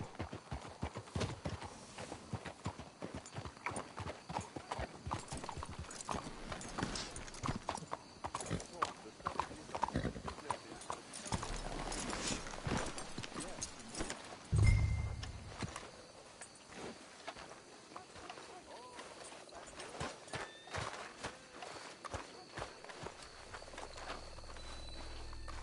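Horse hooves clip-clop in Red Dead Redemption 2, a steady run of close hoofbeats that slows and stops partway through, with voices talking over them and crickets chirping in the background.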